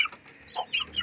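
Fighting-breed chickens and young chicks being raised on a backyard farm, giving a few short, soft clucks and chirps in brief bursts, fairly faint with quiet gaps between calls.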